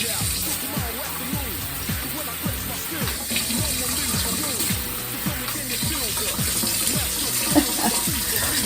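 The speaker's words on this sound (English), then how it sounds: "My new gooseneck sink." A newly installed gooseneck kitchen faucet runs steadily, giving a continuous close splashing hiss into the sink that stays even throughout.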